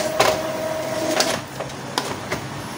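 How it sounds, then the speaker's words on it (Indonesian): A new printer running a nozzle check print, with a steady mechanical hum and a few sharp clicks and carriage knocks spread through the short run. "Maka printer akan mulai proses print out dari hasil nozzle check atau pemeriksaan nozzle."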